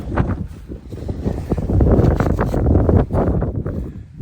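Strong wind gusting across an outdoor yard, a loud, steady rumbling roar buffeting the microphone throughout.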